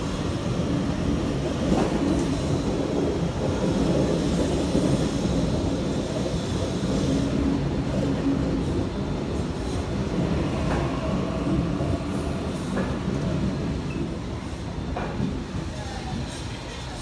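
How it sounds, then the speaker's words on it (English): A City Circle commuter train rumbles steadily into a platform at Central station, a broad continuous roar with faint squeals and clanks, while a voice talks over it. "As we have another City Circle train arrive."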